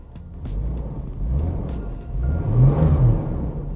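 Ford EA Falcon S running on gas: a close rumbling engine that swells in a few rising revs over a steady low idle, with no talk.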